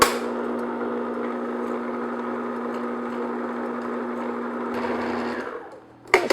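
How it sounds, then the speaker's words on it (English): A stand mixer fitted with a paddle attachment whirs steadily as it blends dry cake ingredients for a strawberry chiffon shortcake, a loud continuous motor hum with a slight shift near the end before stopping. "So I'm going to just, with my paddle attachment, just mix the dry ingredients together."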